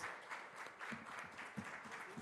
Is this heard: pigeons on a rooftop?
no